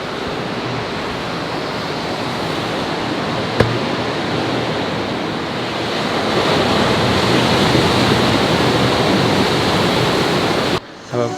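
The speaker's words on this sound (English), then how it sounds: "it's great to be back by the ocean again" Ocean surf rolling onto a beach: a continuous, full wash of breaking waves, steady and loud throughout, with some wind rumble on the microphone and no talking.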